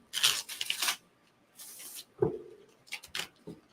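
Playing cards are shuffled up close in brisk papery riffles, several short bursts separated by pauses, with a soft thump among them.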